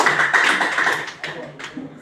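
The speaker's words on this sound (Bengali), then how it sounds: "তালিয়া।" Audience clapping at a morning gathering, a dense patter of many hands sustained for about two seconds, fairly loud and close, tapering slightly near the end.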